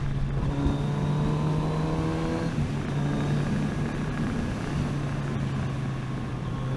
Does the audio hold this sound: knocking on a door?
no